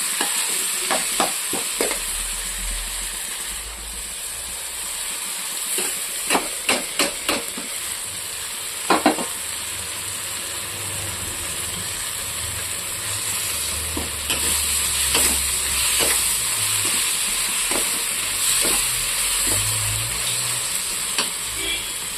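Tomato, green chili, coriander leaves and ginger-garlic paste fry in a pan with a steady hiss, broken by scattered scraping clicks of a spatula stirring, no voices.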